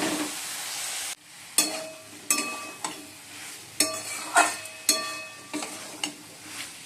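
Soybean chunks and potatoes being stir-fried in a pan, a steady sizzle broken by repeated sharp scrapes and clinks of a spatula stirring at an uneven rhythm, close and fairly loud.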